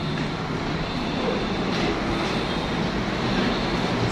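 LRT light rail train running past in Santa Mesa, Manila, a steady, loud, continuous rumble and roar of the cars on the elevated track, close by and unbroken for the whole stretch.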